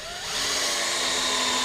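A cordless power drill spinning up and driving a screw into homemade landing gear outrigger pads, a brief close high whine rising quickly and holding steady.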